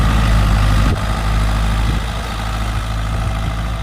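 A Swaraj 855 tractor engine, tuned up to about 72 horsepower, runs steadily with a loud, deep diesel rumble and a constant droning idle, with one brief dip partway through and no talk.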